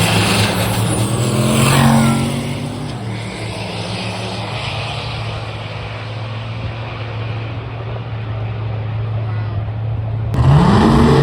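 At a drag week event, a drag racing truck makes a pass, its loud engine roaring and then sustaining a long, steady drone as it runs down the track before a sharp rise near the end. Voices can be heard in the background.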